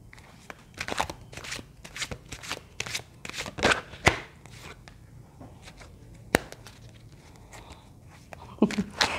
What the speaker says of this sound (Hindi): मैं कार्ड शफल कर रही हूँ